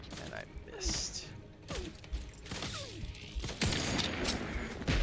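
Turrets firing at the player in The Outer Worlds 2, heard as scattered sharp gunshot bursts amid mechanical clanks and whirs, with a voice talking over the action.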